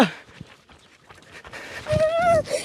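A dog gives a brief, rising whine near the end, fairly close, with scattered rustles and thumps before it and no clear talk.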